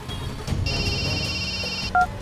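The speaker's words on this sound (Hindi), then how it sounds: "भाई रिंग हो रहा है।" A mobile phone rings with a steady electronic tone held for just over a second, followed by a brief higher chirp, against a dim, busy indoor background in a dubbed South Indian film scene.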